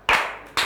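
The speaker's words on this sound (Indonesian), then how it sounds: "Tepuk satu" A group of children claps in unison on a count, two sharp, close claps about half a second apart.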